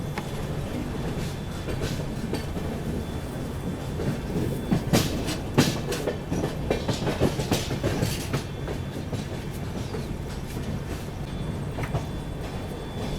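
The Mumbai Rajdhani Express runs on rails through Kasara Ghat with a steady rhythmic clickety-clack of wheels over joints under a continuous rumble, close and moderately loud, with brief sharper clanks in the middle.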